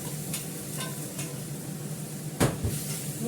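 Banana flower dropped into a pan with a little water and stirred, a steady soft sizzle under scraping, with a sharper clatter of spoon against pan near the end, close by and alone.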